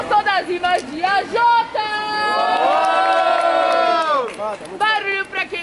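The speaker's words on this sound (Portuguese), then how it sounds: "Barulho pra quem gostou das rimas de AJ!" A crowd cheers at a rap battle grand final in Brazil, voting aloud for a rapper with a sustained roar of shouts and whoops. A host's voice cuts in at the start and end, and the crowd noise is loud and close.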